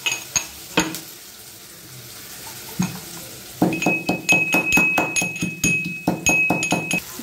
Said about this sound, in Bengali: তো এর মধ্যে লবণ আর হলুদ দিয়ে বেশ ভালো মতো লাল লাল করে ভেজে নেব